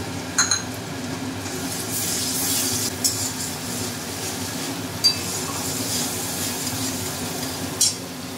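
Tomato, ginger and cumin spice paste stirred into fried onions in oil for a koi fish dish: a low, steady sizzle with a few sharp clinks of the spoon against the pan.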